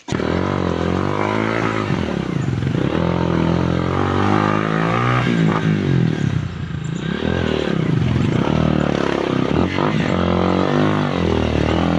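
A loud motorcycle engine revs up and down in long rising and falling sweeps, close and continuous for the whole stretch, with a brief dip midway.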